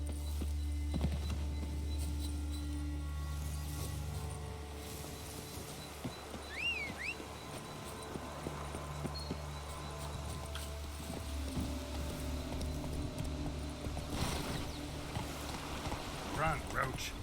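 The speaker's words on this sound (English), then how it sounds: "Run, Roach." Horse hooves gallop in The Witcher 3 video game, a continuous rhythmic clip-clop over a low rumbling backdrop, with a voice speaking now and then.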